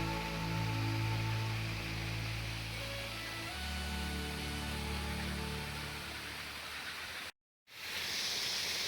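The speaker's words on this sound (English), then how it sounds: "of the waterfall." A backyard waterfall gives off a broad, steady rushing wash of falling water, continuous and fairly loud, with a low hum at the start and a brief dropout near the end, no talking.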